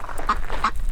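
A duck quacks twice in quick succession, close and clear, outdoors after dark at an off-grid homestead in the southwest.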